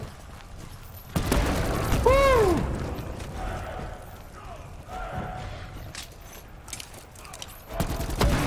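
Rapid gunfire rattles through a zombies video game in dense repeated bursts, loud and near, with a pause in the middle before shooting resumes.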